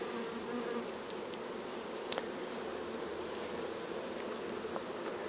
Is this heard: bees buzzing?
yes